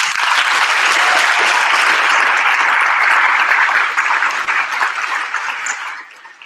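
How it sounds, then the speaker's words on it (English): A large crowd at the Braille Challenge awards ceremony applauds loudly and steadily for several seconds before the clapping begins to fade away. "give a great round of applause"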